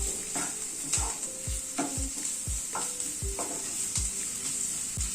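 Chopped ginger, onion and green chilli frying in a pan, a continuous bright sizzle broken by regular spatula scrapes and stirs roughly every half second, close up with no talking.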